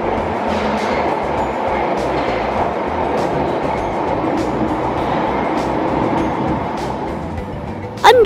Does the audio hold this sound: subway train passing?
yes